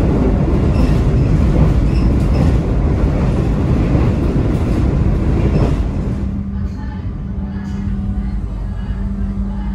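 Argo Lawu passenger train running, a loud rumbling roar of wheels on rail that drops to a quieter steady hum with a low tone after about six seconds, as if slowing, with speech alongside.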